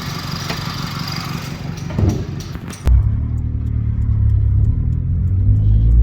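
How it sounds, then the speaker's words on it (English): A turbocharged Mitsubishi Mirage 4G15 engine with a blow-off valve connected and a GT35 street turbo runs up close, with a sharp burst and then a steady, deep idle that builds slightly. "here's with the blow-off valve connected"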